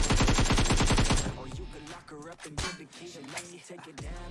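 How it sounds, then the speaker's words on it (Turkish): In a video game, a player fires a rapid, evenly spaced automatic burst lasting over a second, then it stops and voices talk over quieter game sounds. "Sıkıyor bir yere de vuramadı da."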